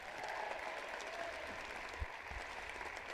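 Crowd applauding a senior women's basketball player at a Hope College versus Kalamazoo College NCAA Division III game, steady dense clapping throughout the gym, sustained and fairly even, with no voice over it.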